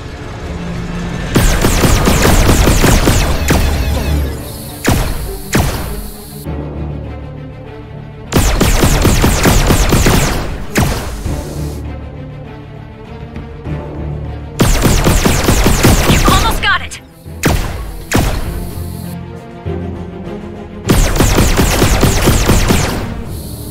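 Bursts of rapid gunfire from the game Red Matter 2, fired at Sentinel robots in loud sustained volleys of a few seconds each, separated by short pauses, with no voices.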